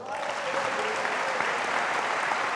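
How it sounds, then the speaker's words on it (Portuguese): Congregation applauding at a church service, a dense, steady wash of clapping that holds evenly from start to finish with no break. "Então aplauda ao Senhor."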